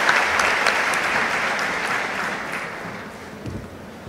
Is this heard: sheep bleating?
no